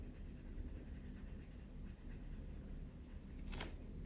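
Close, continuous scratchy rubbing of Prismacolor colored pencils layering and blending under firm pressure on toothy drawing paper, a steady dry stroking texture with no voices.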